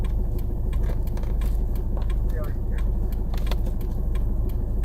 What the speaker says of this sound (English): My engine sounds horrible, dude.